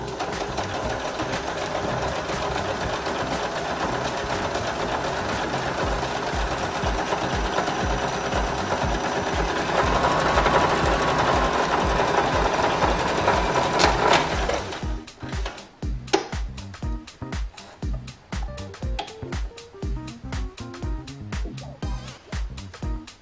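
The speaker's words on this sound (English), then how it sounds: "I'll sew this sample here" A sewing machine stitching a knit seam sample runs in a fast continuous whirring buzz for about fifteen seconds, then slows into a slower, looser series of distinct stitching clicks and thumps close to the microphone.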